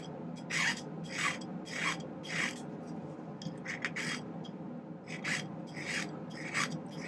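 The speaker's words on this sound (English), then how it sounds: "Now we just have to do a little filing here to get this down." A hand file rasps across a silver Möbius-style bracelet in steady strokes, about ten bright scrapes at an even rhythm with a brief pause midway, close and clear with no one talking.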